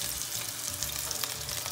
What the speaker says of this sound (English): We're going to fry that on every side till we get it nice and brown.